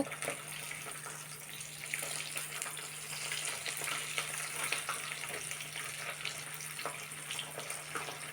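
Valla fish shallow-frying in oil gives a steady close hiss with fine crackling pops, continuous and even throughout, with a faint low hum beneath and no voices.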